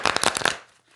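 A deck of tarot cards is shuffled once in a home studio space, with a quick, close burst of papery riffling for about half a second before it fades to quiet.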